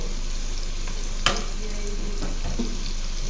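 Chicken curry stirred slowly in a pan, a low steady sizzle with occasional scrapes and one sharp clack of the spoon against the pan.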